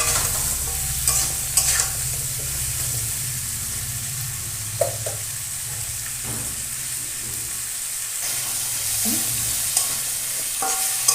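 Fish head sizzling as it fries in hot oil with salt and turmeric for a Bengali fish-head and Malabar spinach curry, a steady close crackle broken by occasional stirring clinks, no voices.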